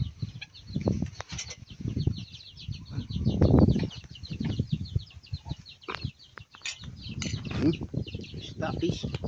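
Chickens cluck and flutter on a vegetable farm, scattered hen calls and wing flaps rising and falling near the listener amid outdoor rustling, with faint voices in the background.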